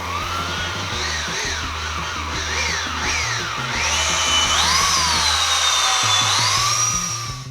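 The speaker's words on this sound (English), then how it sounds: "The reason why I'm using a variable speed polisher instead of a dual action polisher" A variable speed polisher whirs steadily on a car headlight, its pitch rising and dipping as speed shifts, loud and close with no voices.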